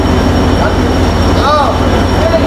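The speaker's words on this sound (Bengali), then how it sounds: "আমাদের ট্রেন এখন নাটোরে এসে থামছে" Inside an AC cabin of the Banglabandha Express as it slows into Natore station: a loud, steady rolling rumble with a brief high brake squeal midway.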